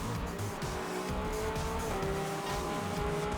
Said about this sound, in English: throwing us into a spin and then into the wall because I probably could have hit the brakes